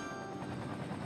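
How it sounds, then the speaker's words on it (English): Helicopters in the Cities Skylines city-builder fly firefighting water runs during a natural disaster, giving a steady, close whirring rotor chop with no talk over it. "Oh, helicopters are hard at work."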